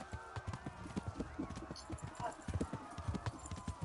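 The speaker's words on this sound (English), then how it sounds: "and then get galloping." Rhythmic hoofbeats of a horse galloping at a steady pace in the video game Kingdom Come: Deliverance, fairly close, with occasional game effects and faint background music mixed in.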